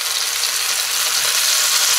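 Chicken tikka masala skewers sizzle steadily in a pan over medium heat, a loud, continuous hiss and crackle with no voices.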